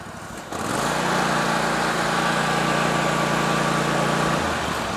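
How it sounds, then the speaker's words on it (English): Small residential lawn mower engine starting and running: a sudden jump into a steady, loud, buzzing drone with a constant hum, held evenly for several seconds with no talk. "I'm getting ready to turn the mower on"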